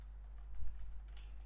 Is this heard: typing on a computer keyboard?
yes